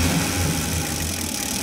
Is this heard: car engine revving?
yes